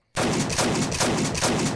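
Rapid shotgun blasts from a zombie video game, a dense run of roughly five loud booming shots fired back to back with no pause, close and harsh.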